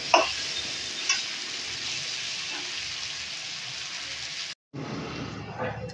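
Tomato and onion fry gently over low heat while being stirred, a steady broadband sizzle with occasional scraping, briefly cutting out near the end before resuming; a voice speaks faintly beneath it.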